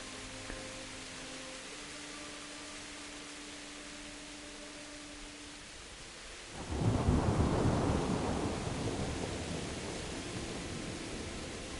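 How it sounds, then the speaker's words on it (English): Close thunder in Kingdom Come: Deliverance breaks in partway through as a heavy, rolling rumble and slowly fades under a steady hiss of rain. "we saw the lightning and then a few seconds later we got the thunder, which means it's close."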